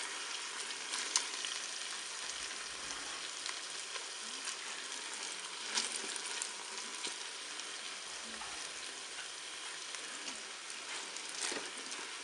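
Spaghetti softened in water going into a Cookeo pot with beef sets off a steady, even sizzle that crackles quietly throughout, with occasional small clicks and stirring scrapes.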